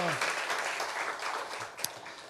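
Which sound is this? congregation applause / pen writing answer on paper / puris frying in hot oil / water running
congregation applause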